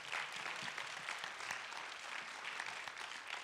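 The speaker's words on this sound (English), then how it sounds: "round of applause for Sierra." At a school governing board meeting, the audience gives a dense, even round of clapping that carries on at a steady level for a few seconds with no talk over it.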